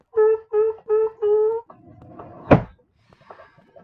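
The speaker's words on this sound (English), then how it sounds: "Please stand clear of the doors. Doors are closing." Closing doors on a metro train in the game Minecraft; four evenly spaced chime-like tones come first, then a low rumbling rattle and a single sharp thunk as the doors shut, all close and clear.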